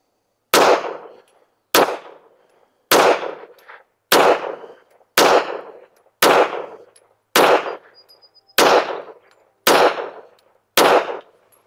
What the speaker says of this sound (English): But let's shoot a group top left target,